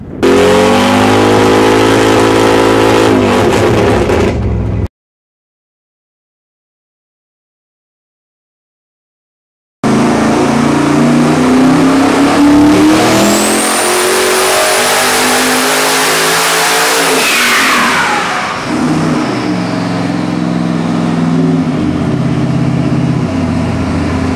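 A pump-gas Warrior 632 big-block engine rated at 837 horsepower revs loudly up close. Sustained roaring pulls are broken by a few seconds of silence, then the engine climbs to a high-pitched scream and falls back again.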